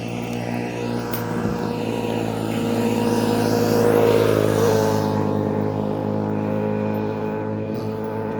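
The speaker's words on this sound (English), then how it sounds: "There's two guys coming here on putt-putt bikes." A pair of small putt-putt motorbikes approach with a buzzing, droning engine note that swells gradually and then fades slightly, close and fairly loud.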